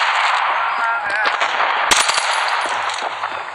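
Desert Eagle pistol fire in the mobile shooter game Standoff 2, loud sharp gunshots over a dense continuous game soundscape, with a cluster of cracks near the middle.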